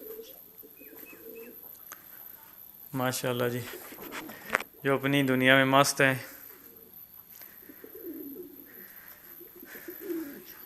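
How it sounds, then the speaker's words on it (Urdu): Plump, chicken-sized pigeons kept in professionally built cages coo in deep, throaty bursts, two loud close rounds in the middle, with someone talking softly before and after. "یہ بہت مرغوں کی طرح موٹے موٹے کبوتر ہیں"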